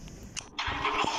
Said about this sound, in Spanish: Arranca el carro.